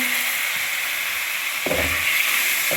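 Spring onions for a potato mongray dish hit a hot pan with a sudden steamy sizzle, a steady frying hiss that swells in the second half.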